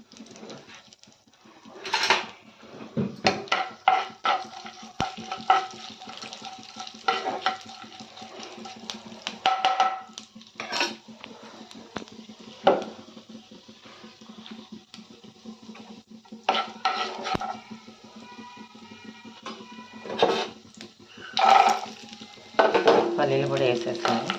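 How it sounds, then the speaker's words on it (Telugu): Cumin and mustard seeds temper in a pan, with a faint sizzle under repeated clinks and scrapes of a metal spoon against the cookware, coming in irregular bursts. "జీలకర్ర, ఆవాలు అన్నీ వేసేసి పోపు పెట్టుకుంటాను."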